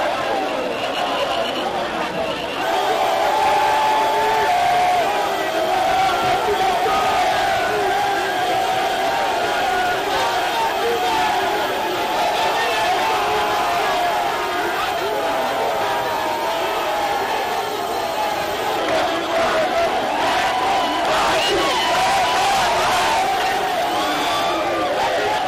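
Large, compact rally crowd cheering for Tshisekedi at an outdoor gathering, a continuous dense roar of shouts, whoops and chatter that stays loud throughout.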